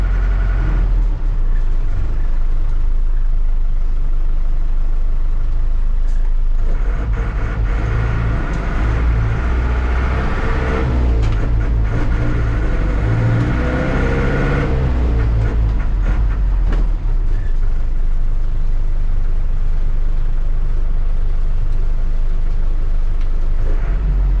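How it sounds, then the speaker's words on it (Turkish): A Deutz Magirus M2000 bus engine rumbles loudly and close, swelling into a roaring rev with throttle blips in the middle before settling back to a heavy, steady drone. "Ara gazı umarım videoya iyi geliyordur."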